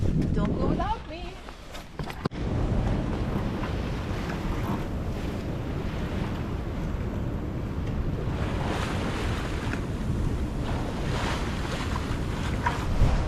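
Rough seas slapping around a sailboat off Newfoundland's southern coast, a loud continuous roar of waves and wind buffeting the microphone, with a brief lull early on and voices talking partly underneath.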